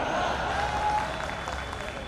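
A crowd claps and cheers at a Delhi comedy poetry gathering, a dense, steady wash of applause that fades slightly toward the end.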